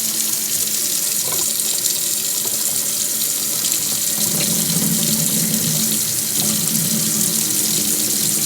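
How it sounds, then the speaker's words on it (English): Water runs and splashes steadily into a sink while tomato seeds are rinsed and the top water is poured off, a continuous close hiss with some gurgling swells midway. "and then pour off the top water"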